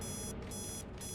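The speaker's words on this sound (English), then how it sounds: "And that's our alarm." An in-game alarm clock from the investigation video game The Operator, ringing in a steady, continuous electronic tone throughout, loud and close, with no voices.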